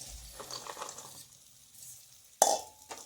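Green beans tipped into a pan of frying spices in a home kitchen: a sharp metallic clink and clatter, then a soft sizzle, after a stretch of quiet stirring and frying noise.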